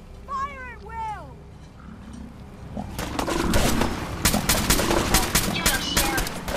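Gunfire in the video game Fallout 4, a rapid burst of repeated shots beginning after a few shouted voices and continuing loud and dense to the end, with creature cries mixed in.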